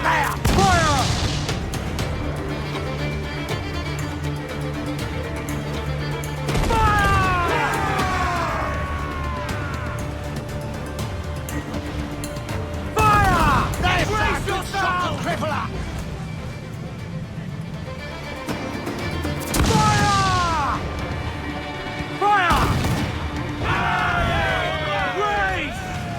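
Ship cannons in an Assassin's Creed IV Black Flag naval fight boom repeatedly in heavy bursts spaced several seconds apart, mixed with crashing impacts and shouting crew voices over rumbling sea ambience.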